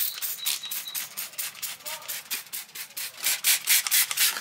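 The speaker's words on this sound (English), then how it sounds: "we'll start wet sanding it in the same pattern throughout the whole entire thing" Wet sanding with 2000 grit sandpaper and warm water, rubbing back and forth in quick, even strokes that repeat steadily throughout, close up and fairly quiet.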